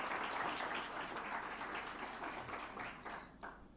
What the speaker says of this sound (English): we give the first panel and the second panel a round of applause